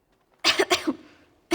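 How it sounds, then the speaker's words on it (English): A sick elf character in the video game Dragon Age: Origins coughs in a few harsh, closely spaced bursts, then breaks into a fresh cough. The sound is near and loud, with no talk over it. "She's coughing."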